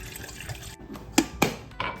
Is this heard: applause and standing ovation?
no